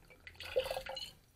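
Brandy poured into a mixing glass, a short soft trickle of liquid lasting about a second, quiet and close with no talk.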